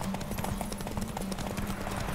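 Horse hooves galloping in the video game The Witcher 3, a steady rapid clip-clop rhythm close up over a continuous low game soundscape, with no talking.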